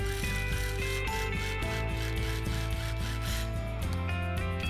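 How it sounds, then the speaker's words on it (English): Sawzall reciprocating saw cutting through pipe, a rapid rhythmic back-and-forth rasp with grinding tones, close and continuous for a few seconds. "The pipe cut's really easy with the Sawzall."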